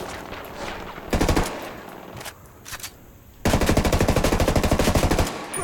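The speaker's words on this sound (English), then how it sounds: "I'm shooting at this fucking cocaine stack" Automatic gunfire rips out in Ghost Recon Wildlands as a player shoots at a cocaine stack, a short loud burst, a few scattered shots, then a longer sustained rapid volley, close and dominant with no talk.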